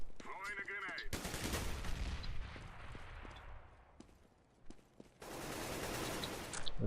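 Automatic gunfire in the CS:GO video game crackles in loud sustained bursts with short gaps between them, while a player's voice is heard at the start.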